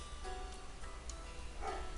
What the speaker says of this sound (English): Dog is barking at someone walking by,